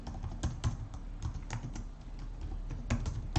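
Rapid keystrokes on a computer keyboard while an email address is typed into a payment form, irregular clicking taps close and clear with no talk.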